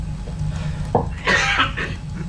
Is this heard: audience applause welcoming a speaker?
no